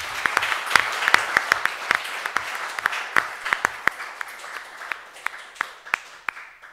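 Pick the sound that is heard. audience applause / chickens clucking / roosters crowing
audience applause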